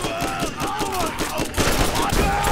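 Gunfire from a Borderlands game with rapid, continuous shots, loud and close, and someone talking over it.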